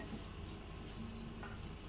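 Grated coconut being stirred as it roasts in a pan for Kerala egg curry, a steady scraping and light sizzling that carries on throughout at close range with no one talking.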